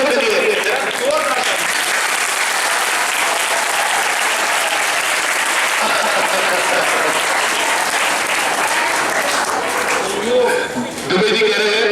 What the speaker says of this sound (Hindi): डॉक्टर साहब के लिए जोरदार तालियां से बजा करके